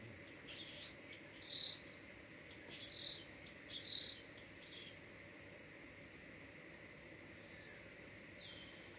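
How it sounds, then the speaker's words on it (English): Birds chirping outdoors in three short bursts of high tweets over a steady hiss of insect or cricket-like background noise, faint and distant. "There's birds come to join us today."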